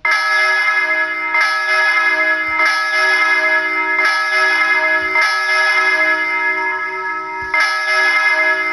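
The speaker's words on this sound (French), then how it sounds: "la grosse cloche de Saint-Vincent" A virtual big church bell, the large bell of Saint-Vincent, played in GarageBand, strikes about six times at steady intervals, each loud metallic clang ringing with a long, bright sustained hum between hits.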